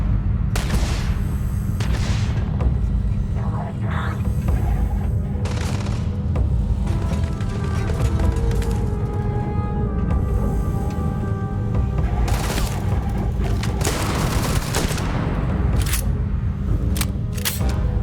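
Shotgun fire in the video game Starfield, with repeated sharp blasts at irregular intervals over a constant low rumble of game ambience, some shots clustered close together.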